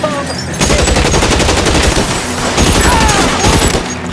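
Dense video-game gunfire from L.A. Noire rattles in rapid, overlapping bursts and automatic volleys, loud and continuous throughout with no pauses.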